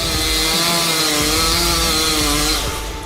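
A chainsaw runs at high revs, cutting into a tree with a steady buzzing whine and grinding wood noise, close and loud throughout, easing slightly at the end.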